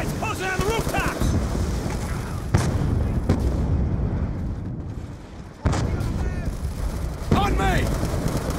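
Sustained automatic fire rumbles through a Call of Duty: Black Ops 2 battle, with dense continuous gunfire and sharp loud bursts cutting in, while voices shout over the din.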